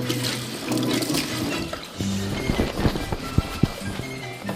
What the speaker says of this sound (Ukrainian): цибуля дуже добре дає тепер знати про себе, тому ми її залиємо водою